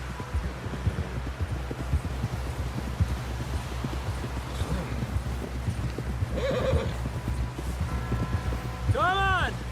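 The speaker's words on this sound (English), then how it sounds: "Someone help John down off this horse." Rhythmic clip-clop of horse hooves riding in Red Dead Redemption 2, steady and close, with a horse whinnying near the end while voices talk over the hoofbeats.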